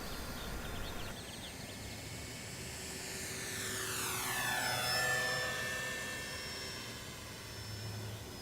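A Durafly Supermarine Spitfire Mk2a RC model warplane with an 1100mm foam wingspan flies overhead: a high electric whine that builds, sweeps down in pitch as it passes near the middle, then fades, all against faint background noise.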